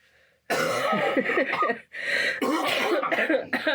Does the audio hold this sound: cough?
yes